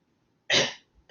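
A person imitates a single dry, hacking cough, one short harsh burst in a quiet room.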